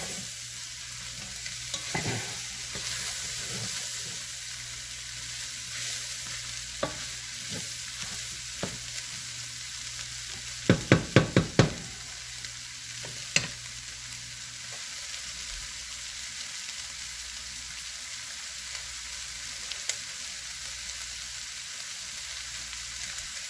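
Chili vegetables softening in a pot over gentle heat, giving a steady low sizzle with occasional stirring scrapes and a quick cluster of spoon clinks partway through; no one speaks.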